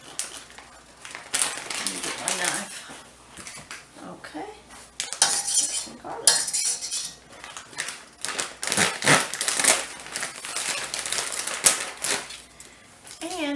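Garlic chopped with a knife on a board while making lemony shrimp and caper pasta, giving irregular quick tapping and clattering cuts close by, with brief kitchen clinks between bursts.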